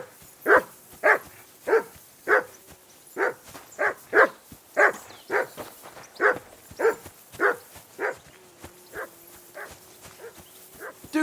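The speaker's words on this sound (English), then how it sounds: "Be quiet, flea bitten hound." A dog in the medieval video game Kingdom Come: Deliverance II barks repeatedly in an even, steady rhythm, around eighteen sharp barks at moderate distance with no talk over them.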